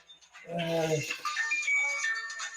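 A mobile phone rings briefly during a live stream, a short melodic tone heard under a voice talking over it.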